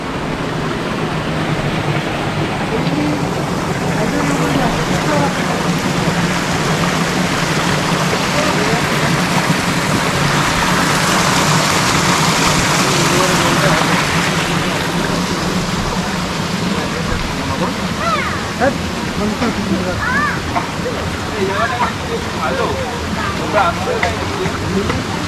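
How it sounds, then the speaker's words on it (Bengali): Bamni Falls in Purulia, water pouring over rocks: a steady, loud rushing roar with no break, close by, and a few faint voices and small sounds coming in near the end. "বামনি ফলসের এদিক দিয়ে একটা উপর দিয়ে ফলস আছে, সেটা হচ্ছে গিয়ে এখানে"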